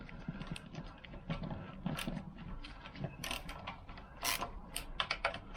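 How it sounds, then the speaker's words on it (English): Small ratchet driver clicking in quick bursts as clutch screws on a Lambretta Series 2 scooter are turned finger tight, a close, fairly quiet run of ratcheting clicks and light metal taps with no talk. "The screwdriver fit that goes into the ratchet's perfect for these, just tightening them finger tight."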